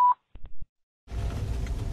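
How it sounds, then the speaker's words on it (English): A single short electronic answering machine beep, followed by a few faint clicks and silence, then a rumbling noise begins. "Please leave your name and phone number after the beep."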